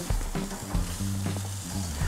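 Chilean sea bass fillets sizzle on a hot grill, a steady close crackle running beneath low background hum with no talk.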